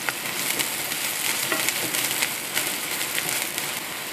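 Ginger sizzles as it fries in a pan with garlic while mie kocok is prepared, giving a steady close crackling hiss that carries on without pause and without any talk.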